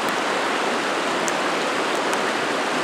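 Santa Barbara Creek in Carson National Forest flows with a constant, loud, dense rushing hiss of water, close and alone with no voices.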